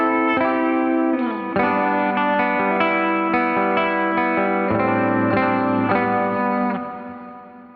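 Electric guitar chords through a Headrush Bright Hall reverb at 40% mix ring out with a lush, spacious reverb tail washing behind each strum, fading away at the end.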